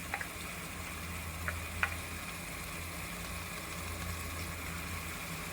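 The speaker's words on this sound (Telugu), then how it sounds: "అడుగు పట్టకుండా కొంచెం ఇలాగే కలుపుకుంటూ ఉండాలి." Chicken biryani masala is stirred in a pot to keep it from sticking, a faint steady sizzle with a few light scraping clicks, no voices.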